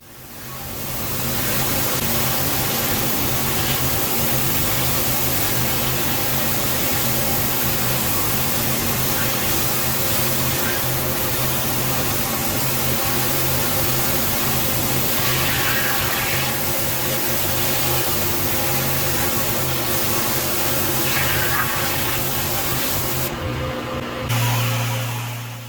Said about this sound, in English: So we're coming in with the first rinse down now, and you can see all the black lichen that's left.